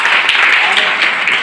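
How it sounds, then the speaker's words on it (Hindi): College students in a hall applauding, dense and loud continuous clapping for a brief moment. "आप लोग अपने लिए एक बार जोरदार ताली बजाइए।"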